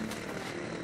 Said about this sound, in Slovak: Nepočuješ nič? To je zvuk motora.